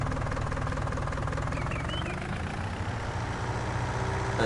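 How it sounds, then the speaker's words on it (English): A tractor engine idles in Farming Simulator 19, a steady, loud, rumbling knock that holds throughout with only slight shifts and no voices over it. "Hold R1, press square, turn on engine."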